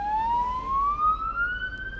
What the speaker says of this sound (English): And sirens are non-stop.